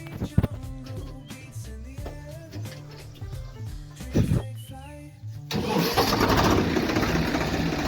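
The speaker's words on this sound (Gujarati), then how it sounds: "ગાઈસ ટ્રેક્ટર ચાલુ થઈ ગયું છે" A tractor engine cranks and catches, with a rough starter whir and clatter before it bursts into a loud, steady running roar that holds to the end.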